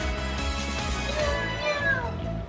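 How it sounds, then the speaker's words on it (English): Cartoon cat meowing in the NekoPara visual novel game, a few clear meows over bright game background music, with a faint voice in the background. "There's a cat."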